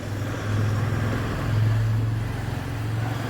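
Car engine idling low and steady during a driving lesson in Ranchi, a continuous near hum with slight swells as the car is readied to reverse, no talking over it.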